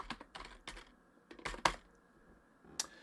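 Quiet bursts of computer keyboard typing as an equation is entered into an Excel spreadsheet, a handful of short clusters of close clicks with brief pauses between them.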